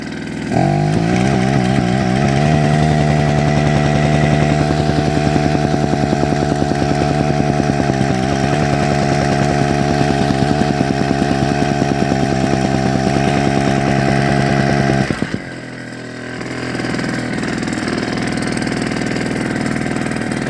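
A Wacker BS52Y vibratory rammer, rebuilt with a WM80 engine kit, runs steadily and loud at close range with a buzzing chainsaw-like drone for about fifteen seconds, then cuts off and drops to a lower, quieter idle-like hum.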